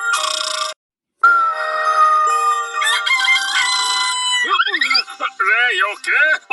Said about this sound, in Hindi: 5 बज गए, बांग देने का समय हो गया